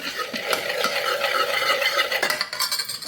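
A spoon mashes cooked Mattu Gulla brinjal in a pot for Udupi-Mangalore sambar. Close, repeated scraping and soft knocking strokes run throughout, with no voices.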